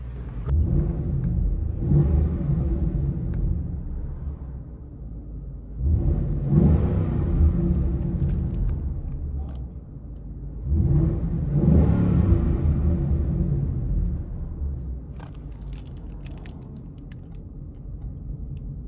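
A 2016 Ford Mustang GT 5.0L V8 with a Flowmaster X-Pipe and X-Force valved exhaust rumbles at idle with the valves open, broken by three longer revs that swell and fade back to a steady deep burble, close and without voices.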